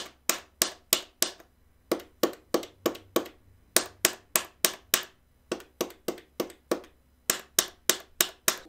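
Loud arcade controller buttons are pressed in quick bursts of sharp, crisp clicks, evenly spaced and close up, with brief pauses between groups, alone without talk.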